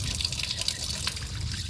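Tap water running during hand-washing of clothes at home, a steady hissing splash with a few drips, continuous and fairly close, with no voices.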